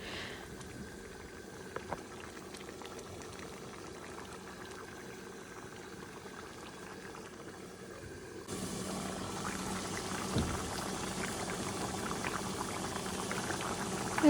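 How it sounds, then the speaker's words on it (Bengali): Prawn and potato curry simmers after broth is added, a low steady bubbling that grows louder and more vigorous partway through, close and without talk. "সব কিছু কষা হওয়ার পর সামান্য একটু ঝোলও দিয়ে দিলাম"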